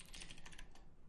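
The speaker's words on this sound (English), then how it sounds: "that was good typing" Rapid clattering keystrokes on a computer keyboard, close and fairly quiet, in a quick burst that slows and fades near the end.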